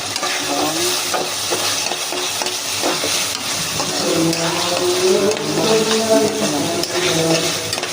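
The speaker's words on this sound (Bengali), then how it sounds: "লবণ দিয়ে ভাজছে এখন" Whole cardamom, bay leaf and cinnamon fry in a pan with oil, giving a steady close sizzle broken by scraping stirs, with no voices.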